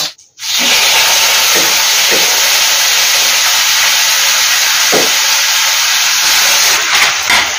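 Cooked brinjal and broad bean pieces drop into hot oil tempered with curry leaves, setting off a loud, steady sizzle that starts abruptly and hisses on evenly, with a few faint clinks.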